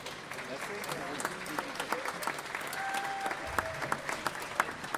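A fan-day audience applauds a guest musician from England: moderate, scattered clapping in a hall, with some sharp individual claps and faint voices and whistles mixed in.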